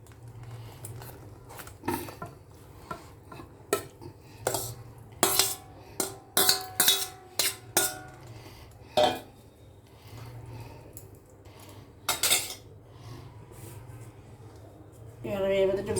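Bread soaked in milk being stirred and mixed in a bowl for a Bengali bread dessert, with scattered clinks and scrapes of a spoon against the dish over a steady low background hum.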